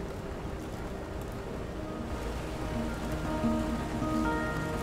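Steady rain falling in the video game Road 96, a constant close hiss of drops on a surface that runs throughout, with faint musical tones rising beneath it toward the end.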